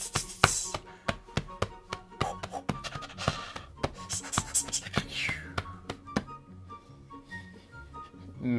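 A voice imitates the oppressive main theme of the horror film Cube with a dense run of sharp taps, knocks, creaks and muffled whispery breaths, irregular and close.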